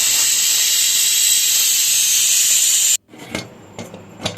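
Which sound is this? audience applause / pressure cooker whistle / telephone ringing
pressure cooker whistle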